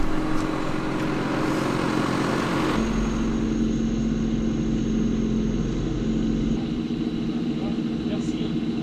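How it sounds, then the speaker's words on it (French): A farm tractor on a rainy rural road in Auvergne gives a steady, low diesel rumble close by, droning continuously while people talk. "Voilà le tracteur."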